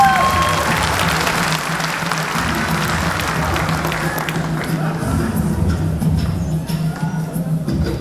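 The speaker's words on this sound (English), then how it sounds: "a big round of applause" Audience applause fills a pageant hall at the Miss Auckland Samoa Fa'afafine Pageant, loud sustained clapping and crowd noise that thins toward the end, with a voice speaking over it.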